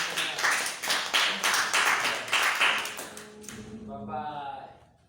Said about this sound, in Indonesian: Tepuk tangan dong buat jawaban.